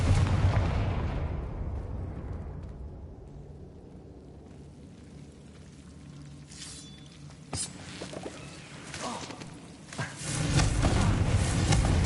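A Confringo explosive spell goes off in Hogwarts Legacy, a loud booming blast that rumbles and fades, followed by scattered crackling impacts and a second heavy burst near the end, with no talking.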